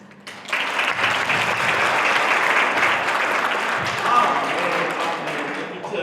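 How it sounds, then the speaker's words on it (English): A church congregation applauds the worship team during a sermon service. Clapping swells quickly after a quiet start and holds as a full, even roar of hands for several seconds, with faint voices beneath. "Will the worship team just stand up so we can give them a round of applause?"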